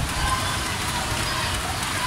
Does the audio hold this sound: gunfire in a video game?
no